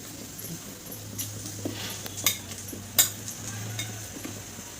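Dough kneaded by hand with oil and sugar for sweet puran poli, soft sticky squishing and slapping with a few sharper clicks against the bowl, close and quiet, no voices.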